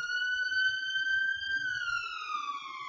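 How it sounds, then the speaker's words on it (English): A wailing siren, smoothly rising then gliding down in pitch, rings out steadily and clearly with no talk over it. "bloody ambulances"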